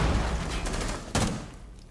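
Rapid gunfire tears through a wall in a multiplayer shooter game, a loud dense volley of shots with one sharp burst standing out near the end.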